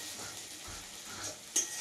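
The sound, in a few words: spices frying with meat in a pan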